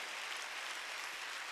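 Church congregation clapping at a Wednesday worship service, a quiet, steady wash of many hands throughout with no distinct voices.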